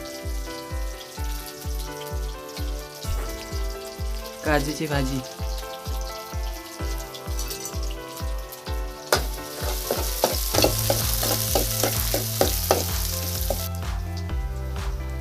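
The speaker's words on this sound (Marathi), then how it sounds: "आजी कशी फोडणी घालते" Tempering sizzles in hot oil for a Konkani-style cashew curry (kaju bhaji), a steady close crackling fry that runs throughout under background music, with a brief spoken voice.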